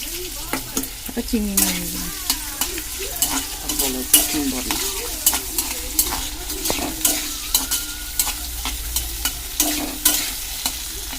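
Shrimp and potatoes fry in a pan with a steady sizzle while a utensil stirs them in repeated scraping strokes, close and fairly loud, with no talking.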